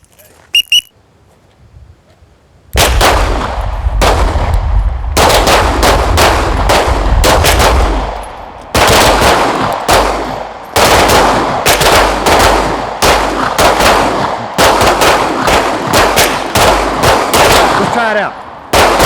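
Repeated pistol shots on an outdoor tactical shooting course in Dover, Tennessee, beginning after a few faint clicks and arriving in fast bursts of loud, close cracks, several shooters firing at once with brief pauses between volleys.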